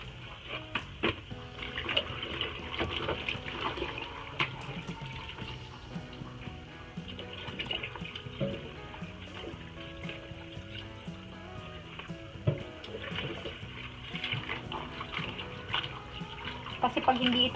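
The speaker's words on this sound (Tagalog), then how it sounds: "pangatlong hugas ko na ito at diretso ko na dito ilalagay sa akin tray para maalis yung mga excess na water" Water runs steadily from a tap while cabbage for kimchi is rinsed a third time, a continuous close splashing wash with handling noises and no talk.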